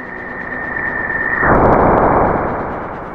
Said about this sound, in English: that is the sound of the solar wind crashing into the outer magnetosphere of another world.